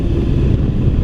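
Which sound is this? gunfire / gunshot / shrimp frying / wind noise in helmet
wind noise in helmet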